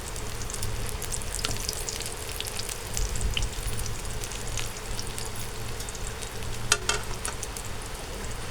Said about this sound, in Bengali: এখন তলটা ভাজা হচ্ছে। আবার তেল দিতে হবে।